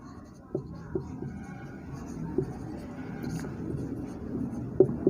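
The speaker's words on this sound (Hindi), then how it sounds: "तो मैं यहाँ पर लिख रहा हूँ, नीचे इधर लिख देता हूँ" Pen writing an answer by hand during a volume percentage numerical, soft scratchy strokes with a few taps, close and fairly quiet over a faint room hum.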